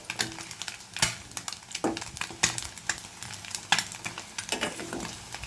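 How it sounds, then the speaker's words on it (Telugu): Eggs frying in a pan toward golden for a tomato egg curry, with a steady close sizzle and irregular scraping and clinks of a utensil turning them throughout. "ఎగ్ని ఈ విధంగా గోల్డెన్ కలర్ వచ్చే వరకు కూడా ఫ్రై చేసుకోండి."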